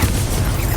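Confringo blast spell going off in Hogwarts Legacy, a short, loud, continuous boom with dense low rumble and broadband crackle, heard alone with no talk.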